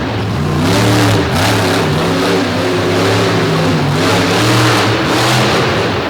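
The engine of the Toxic monster truck revs hard at a Midwest monster truck show in DuQuoin, a loud, continuous roar with rising and falling pitch, close and dominating.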